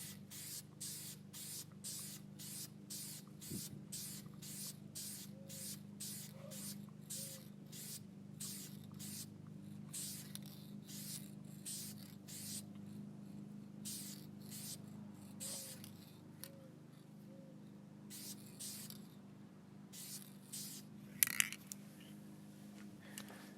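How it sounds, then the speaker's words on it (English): Repeated short bursts of aerosol spray paint hitting a fishing reel seat, a steady run of hisses with brief gaps, close and fairly quiet over a low background hum, with a few small clicks near the end. "and spray, then let go of the tab over here."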